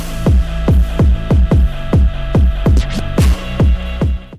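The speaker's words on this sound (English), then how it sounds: "I added the stomp, and I added the scratch as well." A drill beat with an added stomp and scratch effect plays as a loud, even run of punchy booming kicks about every third of a second, with a brief scratchy sweep near the end and no voices.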